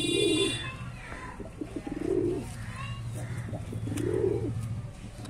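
Pigeon cooing three times in slow, rounded phrases, a wild-coloured female from a breeding pair, fairly close, over a low steady background hum with faint chirps.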